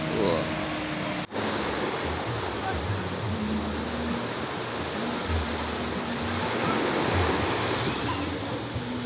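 Surf rolls and washes steadily onto the beach at Pantai Cemara in East Lampung, with wind buffeting the microphone and people talking faintly under the waves.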